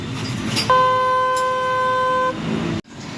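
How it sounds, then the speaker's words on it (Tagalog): A single steady horn honk from a Honda PCX160 scooter sounds for over a second and a half, loud and close, with engine noise before and after. "May busina na rin."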